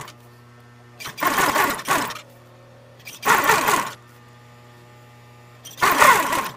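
A sewing machine stitching leather runs in three bursts of steady whirring, each lasting about a second, with a low electrical hum between them and no talking.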